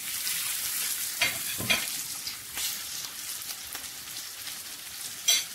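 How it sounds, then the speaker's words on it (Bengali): Onion and garlic frying in a pan with chopped green chili and tomato for a dried fish curry, giving a steady close sizzle with a few louder stirring scrapes and spatters, no talking. "পেঁয়াজ রসুন ভাজা হয়ে গিয়েছে। কাঁচামরিচ কুচি, টমেটো কুচি দিয়ে দেব।"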